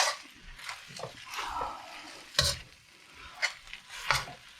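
Mei fun rice noodles are stirred and tossed in a hot pan, soft scraping and shuffling strokes over a faint sizzle, close and quiet, in irregular bursts.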